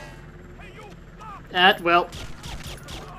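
Two short bursts from a Calypso submachine gun in 007 Agent Under Fire, loud and close, with a few softer shots after them and a brief spoken word at the start.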